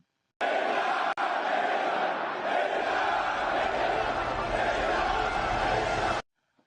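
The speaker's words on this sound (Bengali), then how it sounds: "আকাশ কাঁপানো স্লোগানে তিনি এলেন সবার সামনে" A large crowd chants slogans in unison for Ayatollah Ali Khamenei, Iran's supreme leader, at his first public appearance after the 12-day Iran–Israel conflict. The roar is loud, dense and sustained, with no break for about six seconds.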